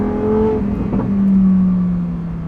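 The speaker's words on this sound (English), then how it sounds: "The NA V10 engine, oh my god." A naturally aspirated V10 in a Lamborghini Performante revs hard, its loud, steady engine tone swelling and holding with a brief rise in pitch mid-rev, close and unbroken throughout.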